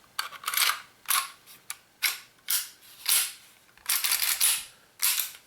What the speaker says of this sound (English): I'm going to locate the slide onto the frame rails.